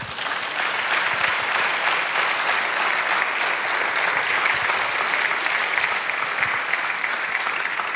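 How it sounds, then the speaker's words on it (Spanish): A church congregation applauds during a sermon, steady dense clapping from many hands filling the room for several seconds without pause. "Dele un aplauso al Señor."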